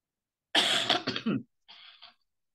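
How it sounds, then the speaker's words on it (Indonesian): Two harsh coughs in close succession, loud and near, followed after a short pause by a softer, breathy throat-clearing cough. "masih batuk."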